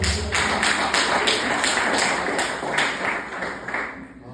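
An audience at a church gathering claps in a dense, steady patter that fades slightly toward the end, with no voices over the applause.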